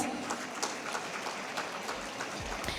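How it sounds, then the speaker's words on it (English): Audience at a medical conference clapping steadily in a large hall, a dense, even patter of applause that holds for a few seconds at moderate distance. "Please give ma'am a big round of applause."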